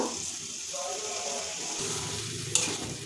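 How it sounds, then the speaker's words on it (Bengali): Flattened rice (chira) is stirred into fried egg, tomato and onion in a pan, with a soft sizzle and light scraping of the spatula, fairly quiet, and a sharp clink near the end. "সব কিছুর সাথে চিড়েটা ভালো করে আমি মিশিয়ে নেব"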